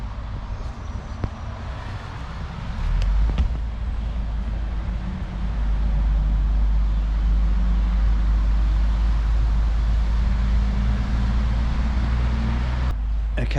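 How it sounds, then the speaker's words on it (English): A truck rumbling past at a roundabout in early-morning traffic, a deep engine drone swelling and holding close by for several seconds over lighter road noise before cutting off at the end. "Truck."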